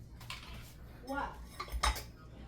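Steak knives from a black slim-block knife set clink and scrape as they are handled, a few short metallic knocks and rattles close by, with a voice talking faintly in the background.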